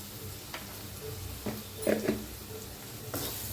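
Spices with turmeric powder sizzle in a pan, a soft steady frying hiss punctuated by a few faint pops and stirring scrapes, close and quiet.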